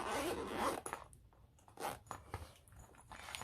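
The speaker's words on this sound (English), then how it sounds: "the zip is quite nice as well" Someone opens the zipper on a crochet hook set case, which gives a close, rasping zip at the start followed by softer scratchy pulls and handling noises.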